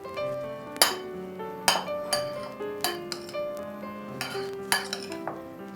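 Chili flakes topping mixed in a bowl with a spoon, a series of sharp clinks and taps against the bowl with ringing overtones, close and clear with no talking.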